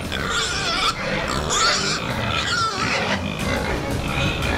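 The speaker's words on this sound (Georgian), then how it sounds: "ღორებია, ბატონო." Pigs inside a car let out a dense, close chorus of grunts and high squeals, continuous and loud throughout.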